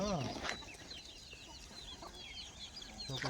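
Free-range country roosters and hens on a farm cluck in short, close bursts, with a brief crowing-like call at the start and more clucks near the end over a steady farmyard background.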